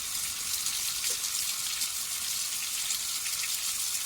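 Tap water runs steadily while a face pack is washed off, a soft continuous hiss of flowing water, fairly quiet and unbroken, with no voices.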